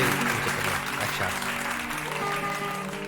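Steady, dense applause from a large concert audience at a ghazal performance, loud and sustained throughout with no talking over it.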